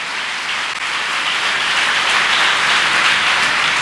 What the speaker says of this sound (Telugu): చప్పట్లు కొట్టే గట్టిగా శక్తి కొట్టు